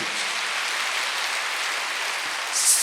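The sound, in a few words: congregation clapping during church service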